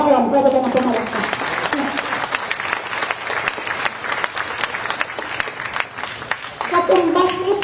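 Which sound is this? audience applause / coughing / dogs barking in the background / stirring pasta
audience applause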